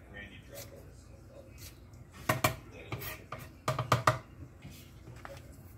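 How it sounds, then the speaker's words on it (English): A knife chops green onions on a board, a few sharp knocks clustering near the middle and end over a low room murmur. "I'm also cutting some green onions"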